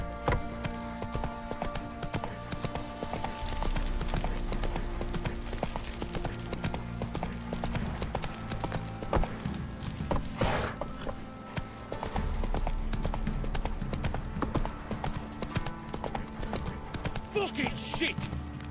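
Roach, Geralt's horse in The Witcher 3 video game, gallops with steady clip-clop hoofbeats under game music and shouting voices throughout.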